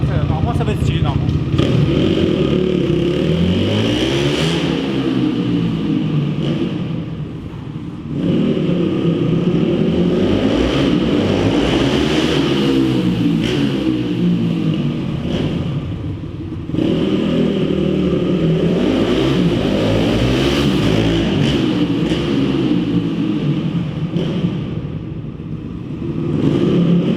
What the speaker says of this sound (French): La moto a déjà tourné, elle est chaude, donc on va voir ce que ça donne.